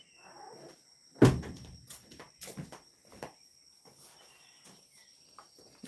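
A door is shut with a sharp thud, followed by a few quieter knocks and shuffling steps, while a faint steady chirping of crickets hums from outside throughout.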